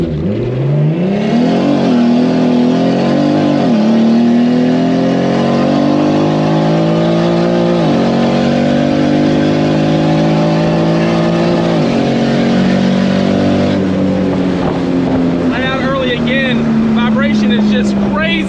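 A 2JZ-swapped BMW E30 with a 6466 turbo and DCT gearbox accelerates hard down a quarter-mile, engine note climbing loudly through several gear changes and rising pitch, with faint voices at the end.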